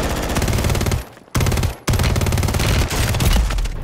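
Rapid automatic gunfire in Call of Duty, loud and close, comes in dense sustained bursts with two short breaks between volleys and no voices.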